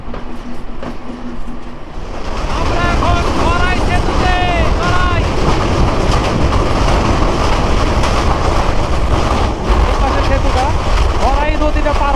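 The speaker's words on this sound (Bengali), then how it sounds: "এবার আসলাম বাংলাদেশের অন্যতম luxurious express train Sundarban express" Heard from aboard the Sundarban Express between Dhaka and Khulna near Pangsha station, the passenger train runs on its rails with a loud, continuous roar, heavy wind buffeting and intermittent high wheel squeals.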